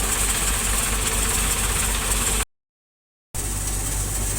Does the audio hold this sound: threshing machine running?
yes